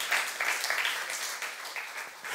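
A church youth congregation claps during a sermon, a steady, moderately loud wash of many hands with no voices over it, tapering slightly toward the end.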